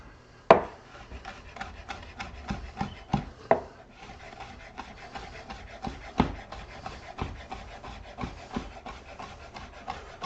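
Bacon is diced on a cutting board with a knife, a series of sharp close chops in an uneven rhythm, some quick bursts and some spaced strokes, with a soft scraping between cuts.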